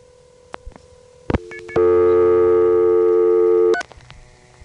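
Old 1973 New York trunk line signaling: a few clicks and short tone bursts, then a loud steady multi-tone signal held for about two seconds before cutting off into quiet line hiss.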